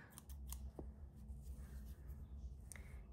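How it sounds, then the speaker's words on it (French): Scissors snip through beige yarn during crochet work, giving a few short crisp cuts close to the microphone in a quiet room with no talking. "Là, je vais couper mon fil beige"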